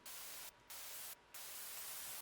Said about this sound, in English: there's also some white noise to help